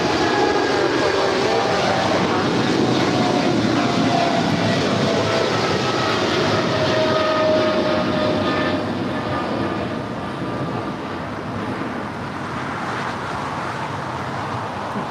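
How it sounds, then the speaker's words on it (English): A DHL Boeing 777 freighter operated by Aerologic departs LAX bound for Seattle-Tacoma. Its engines make a loud, broad, steady roar that eases off slightly toward the end. "That is DHL operated by Aerologic Flight 489 departing to Seattle, Tacoma. It's a 777 freighter."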